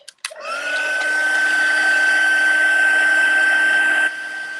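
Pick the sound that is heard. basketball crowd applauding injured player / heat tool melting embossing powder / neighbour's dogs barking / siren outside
heat tool melting embossing powder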